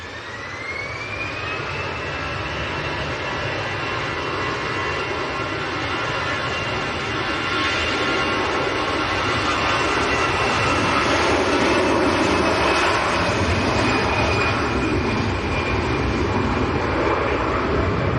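A Pilatus PC-24 business jet of Silver Aviation, based at Manchester Airport, roars steadily and close in windy conditions, with a rising turbine whine and a broad engine rumble that swells and holds loud throughout.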